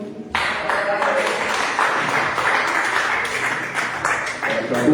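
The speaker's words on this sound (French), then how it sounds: "Merci Carla, on peut l'applaudir." A room of people, including children, applauds during announcements at a French community gathering, with continuous mid-level clapping from start to finish after a brief quiet opening.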